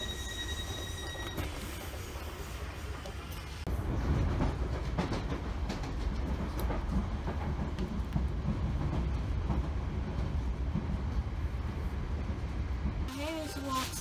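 A passenger train bound for Teddington via Richmond rumbles along the rails near Queenstown Road with steady clattering and some wheel squeal, heard from onboard, with a voice audible in the first seconds.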